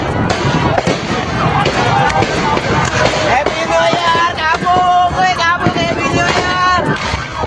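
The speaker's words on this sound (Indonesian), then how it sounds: "terlihat sejumlah orang mengarahkan kembang api kepada lawannya" Fireworks and firecrackers fired at rival groups during a youth street brawl on the Klender flyover in East Jakarta just after New Year, a loud, dense barrage of crackling bursts and whistling rockets with crowd noise mixed in.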